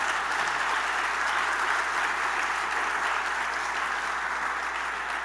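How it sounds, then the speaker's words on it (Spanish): A church congregation breaks into sustained applause, a dense, steady wash of clapping from many hands that holds evenly throughout without letting up. "deberíamos dar un aplauso al Señor por esas personas que Dios nos manda"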